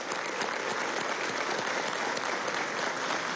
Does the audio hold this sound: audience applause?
yes